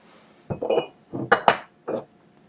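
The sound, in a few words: pot covered to simmer red wine pork belly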